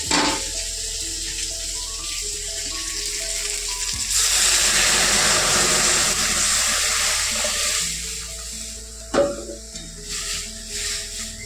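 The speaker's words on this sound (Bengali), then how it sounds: "বাবা, কাকি, মাসি, ডালটা ফোড়ন দিয়ে নেই।" Spices for tempering dal hit hot oil and burst into a loud, close, hissing sizzle that swells and then gradually settles, alone over a steady kitchen background.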